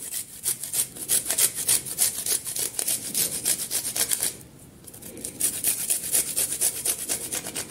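Two garlic cloves are rubbed over a kitchen grater in quick, even back-and-forth rasping strokes, close and fairly loud, with a brief pause midway before the regular scraping rhythm resumes.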